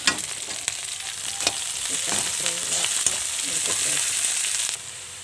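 Peanuts fry in a hot pan for vegetable fried rice, giving a steady loud sizzle with scattered pops and crackles. The sizzle drops slightly near the end, and no one speaks.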